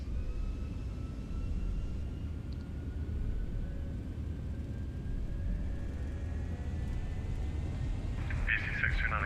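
Boeing 737-800 engines in a flight simulator spool toward takeoff thrust, a steady low broadband roar that holds level and close, with a faint rising whine and a brief burst of higher-pitched noise near the end.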